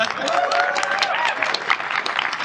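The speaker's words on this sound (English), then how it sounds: "let's give them a round of applause" A convention crowd applauds podcast panelists at a fan panel, heard as a thick, continuous patter of clapping. Cheers and voices sound within it, and the clapping holds at a fairly loud level throughout.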